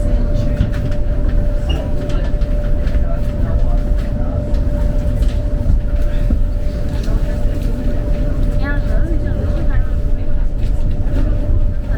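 A tram bound for Wolverhampton St George's rumbles steadily along the rails with a constant electric hum and occasional squeals, loud and close from inside the car.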